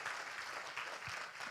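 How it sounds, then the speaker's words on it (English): Applause from a church congregation at a local government launch service, a soft continuous patter of many hands at a moderate distance, steady throughout with no voices over it. "give him a hand clap of praise"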